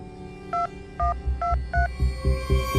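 A phone is being dialed: four touch-tone keypad beeps, then a quick series of lower, rhythmic pulsing tones, with no speech.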